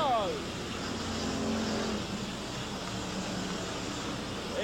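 Stock cars race at the Laval speedway in the 1980s, a steady wash of engine roar with a car passing close by at the start, heard under a continuous announcer's commentary over the loudspeaker.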